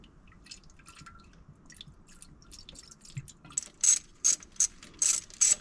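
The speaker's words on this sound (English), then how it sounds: "I took the bleeder screw out of the throttle body here and it let a whole air pocket out." Coolant and trapped air escape from a throttle body bleeder screw on an Autozam AZ-1, first soft trickling and clicks, then a burst of five sharp, gurgling spurts close by.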